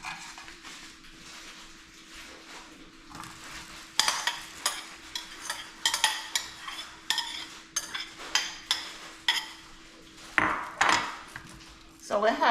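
Chopped seasoning vegetables (sweet pepper, onion, scallion, thyme, garlic) going into a pot for ackee and saltfish, with repeated scraping stirs and clinks of a utensil against the pot over a low hum, clearer and louder in the second half.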